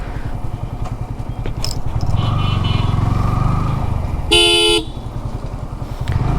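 A Yamaha R15 M motorcycle carrying a pillion rider through city traffic gives a steady, close engine drone. Another vehicle's horn blares loudly for a moment partway through, and there is no talk.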